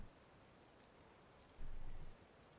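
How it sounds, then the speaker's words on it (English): Soft, steady rain hisses in a city-building game, a faint constant wash with a brief louder swell of heavier rainfall partway through and no talking. "A good rain makes for happy plants."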